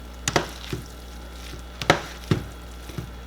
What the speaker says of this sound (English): Now I'm just gonna add the kielbasa back in. And now I'm gonna just stir all that around.